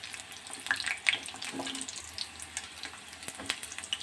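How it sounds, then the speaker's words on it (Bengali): Wheat flour singaras fry in hot oil over a lowered gas flame, giving a steady soft sizzle and bubbling with occasional light crackles and a faint clink, without any talk. "কমিয়ে আস্তে আস্তে এগুলোকে বাদামি করে ভেজে নেবেন"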